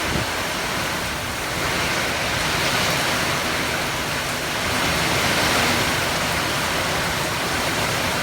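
Heavy rain pours down outside on a cold day in Los Angeles, a dense, steady broadband hiss with no breaks and no talking.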